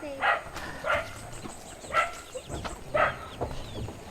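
A dog barks four times at roughly one-second intervals, sharp and moderately distant, against a quiet outdoor background with faint rustling.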